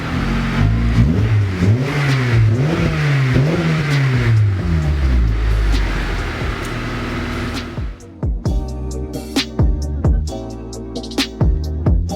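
An Acura TSX engine revs up and down through a throaty aftermarket Tsudo SP2 exhaust, then settles into a rumbling idle punctuated by sharp pops.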